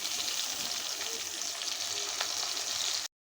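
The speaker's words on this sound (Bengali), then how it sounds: "এখন পটলগুলো ভেজে নিব।" Pointed gourd (potol) frying in a pan, a steady close-up sizzle of hot oil with faint stirring clicks, cutting off abruptly at the end.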